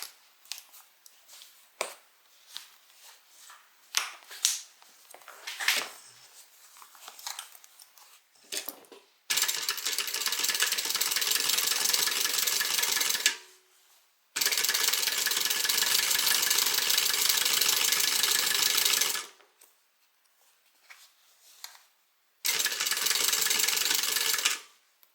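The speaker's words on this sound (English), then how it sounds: "right now we're just going to sew along this bottom edge." A sewing machine runs along the bottom edge of a fabric bag in three long, loud bursts with short pauses between them, after a stretch of quieter handling clicks and rustles, and no voices.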